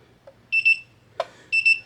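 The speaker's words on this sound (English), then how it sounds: "till it beeps." A Konig 1.0 gun safe keypad beeps while a code is programmed: a faint click, then a short double beep, a single key tap, and another double beep, crisp and close in a quiet room.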